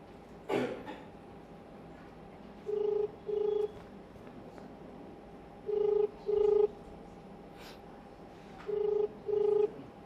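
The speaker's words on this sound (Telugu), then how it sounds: "ఆయనకు ఒకసారి ఫోన్ చేద్దాం" A telephone ringback tone: three pairs of short electronic rings spaced evenly apart, clear over a quiet background.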